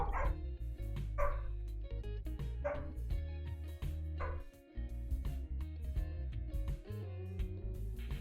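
A neighbor's dog barks repeatedly in bursts, close and loud, over steady background music.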